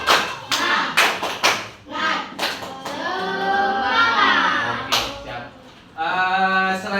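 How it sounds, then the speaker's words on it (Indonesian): A classroom of pupils performs a rhythmic spirit clap, bursts of sharp hand claps in patterned groups with chanting voices and cheers between them, close and loud. "Coba terlebih dahulu kita tepuk semangat."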